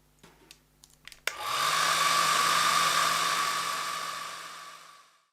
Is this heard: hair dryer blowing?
yes